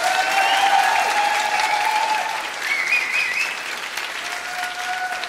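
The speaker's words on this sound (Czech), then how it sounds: "Tak, jestli můžu poprosit teď fakt hřmotný potlesk," A large audience applauds loudly at a live Wallachian folk song and dance ensemble performance, a dense continuous roar of clapping that eases slightly partway through, with no talking over it.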